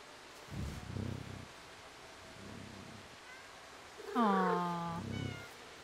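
A cat in the video game Stray gives a clear, close meow with a rising then falling pitch, set among soft footsteps and quiet game ambience.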